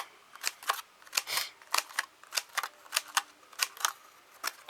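Scissors snip a row of small slits along a piece of craft material, a quick series of sharp, close clicks in an irregular rhythm with no talk.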